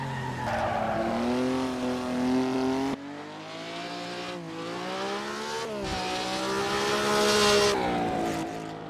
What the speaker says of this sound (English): the oldest car to ever take on the Power Lap, the Maserati 250F